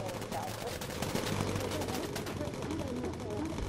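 Bomber turret machine guns firing in the WWII game Bomber Crew, a steady rattle of rapid shots throughout, fairly close, beneath excited talking.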